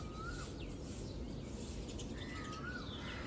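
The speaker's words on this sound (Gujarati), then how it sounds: "સાંભળો કોયલનો અવાજ" Asian koel calls rise twice at moderate distance over a steady outdoor hiss, with small birds chirping faintly in the background.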